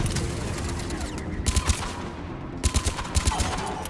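Bursts of automatic gunfire in the Mass Effect 3 video game, several rapid volleys in short clusters over steady game background noise, loud and close.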